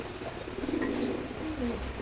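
A pair of pigeons coo softly in low, rolling calls nearby, a short gentle burst against a quiet background hiss.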